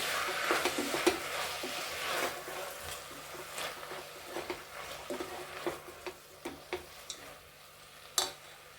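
Tomatoes cooking down in a pan, with a soft, quiet sizzle under repeated clinks and scrapes of a spoon stirring at an irregular pace, each stroke standing out as a sharp tap.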